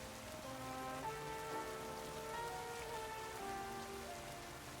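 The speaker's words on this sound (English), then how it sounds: "Is it raining? Oh, it is raining. Oh, that's a nice sound." Rain falls steadily as a soft, even patter, faint and constant throughout, with gentle tonal music playing quietly alongside it.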